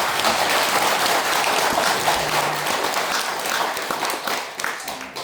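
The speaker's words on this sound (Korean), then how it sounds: "우리가 힘찬 축복의 박수 한번 하겠습니다." A church congregation bursts into warm applause at a Sunday service honoring parents, with dense, sustained clapping from many hands that stays loud and then thins out near the end.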